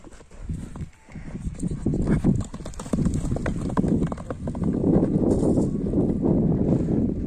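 Trained horses gallop past outdoors, their hooves drumming in a quick, rhythmic clip-clop that swells louder and nearer over several seconds, with wind rumbling in the background.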